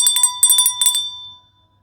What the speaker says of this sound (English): Let me ring the bell.